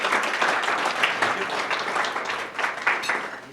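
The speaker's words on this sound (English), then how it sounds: "let's have a round of applause for Dan Trout from Northeastern Savings Bank" A luncheon audience claps for emcee Dan Trout of Northeastern Savings Bank, a dense, fairly loud patter of many hands that holds steady, with some chatter mixed in.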